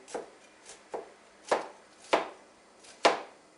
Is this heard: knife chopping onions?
yes